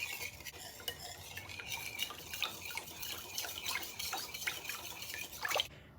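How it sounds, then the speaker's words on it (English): Eggs and canola oil whisked in a bowl, a quick run of light metallic clinks and taps of the whisk against the sides, close by and fairly faint, ending in a brief louder scrape. "And give a quick whisk until everything's well blended."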